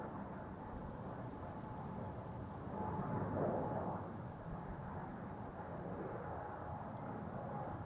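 A KLM airliner rumbles while moving at Amsterdam Schiphol Airport, a distant steady low drone with a faint whine that swells slightly midway.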